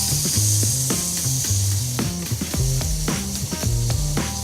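A rack of lamb sears in a hot pan with a dense, loud sizzle while a utensil knocks and scrapes repeatedly as the meat is turned.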